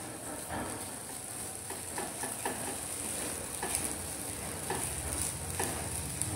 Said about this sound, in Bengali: আদা বাটা দিয়ে একটু নাড়াচাড়া করে নেব।